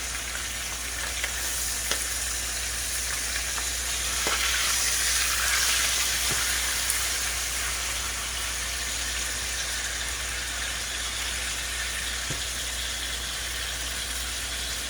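Thick pieces of food sizzle loudly in a frying pan while being flipped, a dense continuous crackle with a few sharp clicks and a brief swell in the middle, close and without talk.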